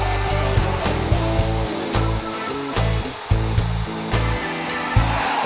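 A D-handle router cuts dovetail pins and tails in wood, its motor whining steadily while the load changes in a series of short bursts and drops as each cut is made, loud and close, with no speech.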